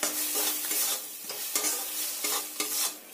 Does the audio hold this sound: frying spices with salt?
yes